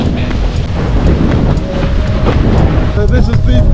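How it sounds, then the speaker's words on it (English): Strong wind buffets the microphone while windsurfing off Hayling Island near Portsmouth, a loud continuous low roar with gusts and water splashing beneath, along with a voice talking. "there's a bit of wind out here"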